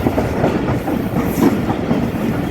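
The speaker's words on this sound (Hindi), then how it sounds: "सामने से कोई ट्रेन आती हुई दिखाई दे रही है" A train rumbles along a railway line between Sadiqabad and Bahawalpur, a loud, steady roar of wheels and cars with a faint clickety-clack running throughout.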